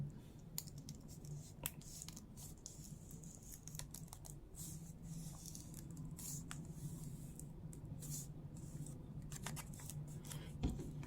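Scissors snip through dried palm leaf being trimmed for weaving a cicada figure, faint crisp cuts coming in irregular clusters over low background hum, no talk.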